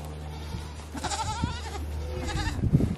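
A baby goat being walked on a lead bleats in a short wavering cry, followed by a few more nearby bleats and low rustling.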